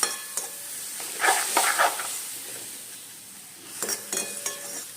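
Heated milk poured into a dish in a pan and stirred in, with bursts of sizzling and spoon scraping against the pan separated by a quieter pause, close and without talk.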